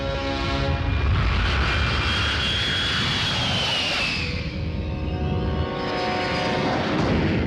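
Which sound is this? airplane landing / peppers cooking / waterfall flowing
airplane landing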